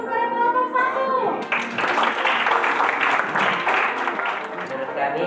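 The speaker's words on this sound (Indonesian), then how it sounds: "Mari berikan tepuk tangan kepada kelompok 1." A school classroom claps for a student group after its presentation, with children's voices at first, then a burst of loud, dense applause from the class that goes on steadily to the end.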